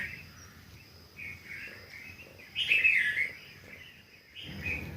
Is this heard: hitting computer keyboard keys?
no